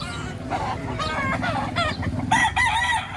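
A Gilmore Golden Boy rooster at a crowded poultry market in Batangas, with loud overlapping clucks and crowing calls up close over a busy background of other fowl.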